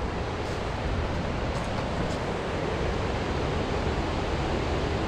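Fordyce Creek in Tahoe National Forest near Lake Spaulding, water rushing at its outlet as a steady broadband wash, close and continuous, with no voices.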